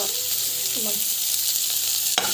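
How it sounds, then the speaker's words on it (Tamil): Onion and green chilli sauté in a hot pan with a steady, close sizzle and crackle, a brief stir scrape near the end, with no talking. "நல்லா வந்து வதக்கிக்கோங்க"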